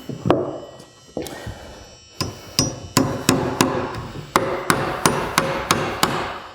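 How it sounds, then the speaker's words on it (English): Sharp hammer blows drive 16-penny nails into wood wall studs during framing, a few scattered strikes followed by a steady run of evenly spaced, loud, ringing whacks close by. "when I'm nailing these nails, I'm going at a little bit of an angle"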